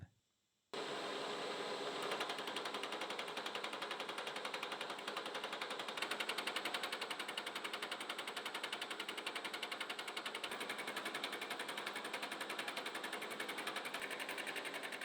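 A CNC mill cuts a metal part with a boring head, giving a steady, loud, dense machining whine and chatter. It starts abruptly after a brief silence and runs unbroken, with a fine rapid pulsing throughout.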